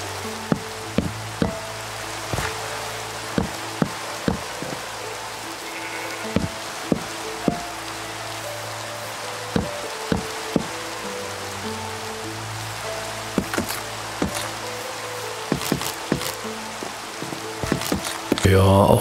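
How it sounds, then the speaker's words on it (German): Steady rain falls in the video game Minecraft, a continuous soft patter with intermittent sharp clicks and knocks over a low hum, running throughout at moderate level. "auch wenn es jetzt hier regnet"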